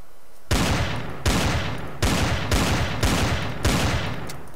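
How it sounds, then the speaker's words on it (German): Five loud gunshots from a weapon in the space survival game Empyrion, each a sharp burst with a short decaying tail, fired at a slow, even pace with no talk. "ein paar Schüsse habe ich ja noch"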